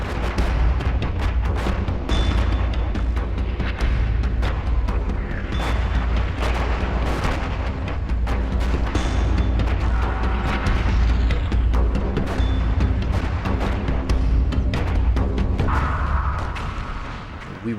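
Artillery shells explode in dense, continuous succession on a 1918 Western Front battlefield, a loud rumbling barrage of overlapping booms and sharp cracks.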